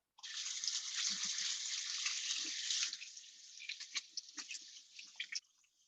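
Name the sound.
water running while rinsing hands at sink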